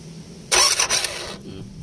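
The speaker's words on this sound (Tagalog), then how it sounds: "kusa po siyang gumagana yung starter motor" A car starter motor, engaging on its own due to a defective relay, gives a short burst of mechanical whirring that starts abruptly and runs for under a second, then dies into a low rumble.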